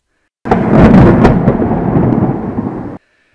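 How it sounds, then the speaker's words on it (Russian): A loud, sustained thunder crack and rolling rumble as lightning flashes, used as a storm effect in an audiobook, starting abruptly and booming for about two and a half seconds before cutting off, with no voices. "Ох, и молния сверкнула"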